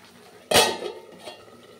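A lid set down on a pot of cooking beans, one sharp metallic clank followed by a short ringing rattle as it settles, close and alone in a quiet kitchen.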